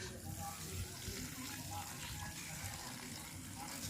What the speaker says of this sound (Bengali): এবারে আমি এই জলটি ফেলে দিচ্ছি